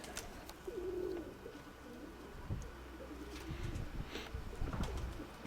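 Pigeons coo softly in low, throaty bursts, with faint rustling and shuffling nearby.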